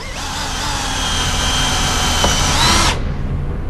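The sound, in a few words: power drill drilling hole in Airstream trailer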